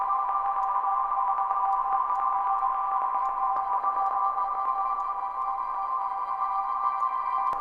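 A synthesized sine wave drone with a long reverb tail, a steady resonant tone holding at a constant level throughout with faint sparkling overtones and no break.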